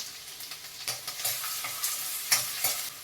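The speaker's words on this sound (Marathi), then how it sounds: "तेल गरम झालं की 2 चमचे बारीक चिरलेला लसूण, 1 चमचा बारीक चिरलेला अद्रक, 2 हिरवी मिरची" Finely chopped garlic, ginger and green chillies fry in hot oil for Gobi Manchurian, giving a close, bright sizzle broken by repeated stirring strokes and spatula scrapes against the pan, with no talk.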